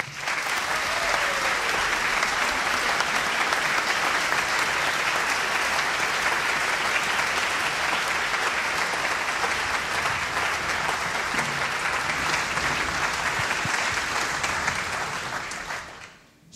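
An audience at a traditional student concert of the Medical Faculty in Ljubljana applauds loudly and continuously for about sixteen seconds, a dense, even roar of many clapping hands that cuts off sharply at the end.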